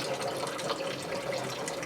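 Water runs steadily from a tap into a sausage casing for homemade beer bratwurst, a continuous close splashing rush with no talking.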